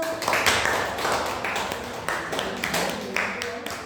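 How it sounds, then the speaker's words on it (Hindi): A classroom of students claps for a classmate who answered a chemistry question correctly, with several bursts of scattered, fairly close applause over a few seconds. "चलो इनके लिए तालियां बजा दो"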